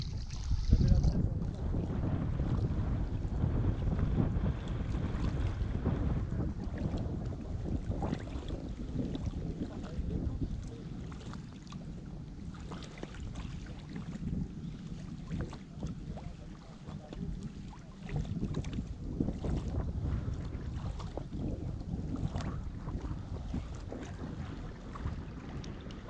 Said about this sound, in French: c'est là que le vent se lève quoi